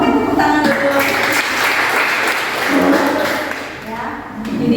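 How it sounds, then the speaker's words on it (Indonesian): A class of children claps their hands together in a classroom, a dense, loud burst of clapping mixed with chatter and voices that fades out toward the end. "Oke, tepuk tangan dulu."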